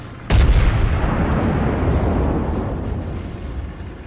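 USS Texas fires a naval gun salvo in World of Warships, a sharp loud boom followed by a long rolling rumble that slowly decays, heard alone and close.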